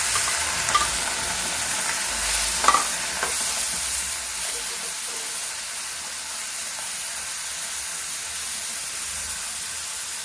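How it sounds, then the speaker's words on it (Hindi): Chopped tomatoes frying in a pan for chutney, a steady hissing sizzle with a few soft stirring bumps near the start, close and even throughout. "बस अब इसको वहां से भूनेंगे।"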